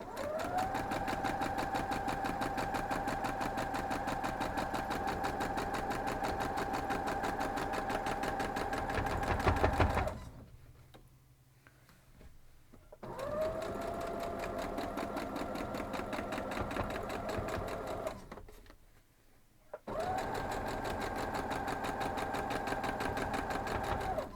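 A sewing machine stitches rows of a hovering hawks quilt block together in three long, steady runs of rapid close whirring, broken by two short quiet pauses.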